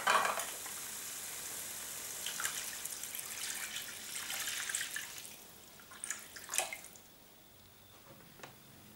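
Water poured into a hot pan of tomato sauce and peppers, a sharp hiss and sizzle at first that eases into bubbling and crackling, with a few louder spits before fading.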